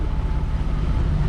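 A sailing yacht motoring under engine at night off the Australian coast, a steady low drone of the motor mixed with wind buffeting the microphone and faint water wash, no voices.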